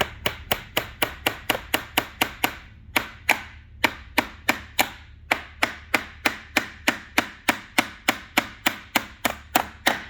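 Rapid, steady hammer blows driving a nail into wood, about three a second, with a brief pause early on, close and sharp.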